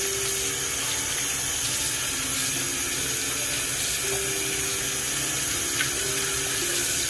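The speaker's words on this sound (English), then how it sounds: "We're gonna come over here to the sink and we're gonna start rinsing it out." A paint-soaked roller being rinsed under a sink tap, a steady loud rush of running water throughout, with no talking.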